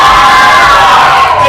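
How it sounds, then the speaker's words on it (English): A crowd cheers for their teams in a loud, sustained roar of shouting and whooping voices, steady throughout and filling the space. "Let me hear a big cheer for your teams."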